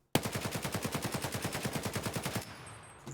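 Full-auto gunfire from a weapon in the video game Escape from Tarkov, a single sustained burst of about twenty rapid, evenly spaced loud shots over roughly two seconds, then a fading tail.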